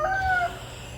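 A goose named Andy gives a single short, loud honking call up close, which fades into quiet background.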